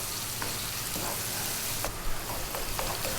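Onions and garlic fry in a pan as the base of a sausage mushroom pasta sauce, giving a steady, close sizzle and crackle that runs throughout with no talking.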